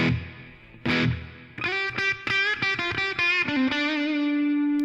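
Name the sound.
guitar with plate reverb effect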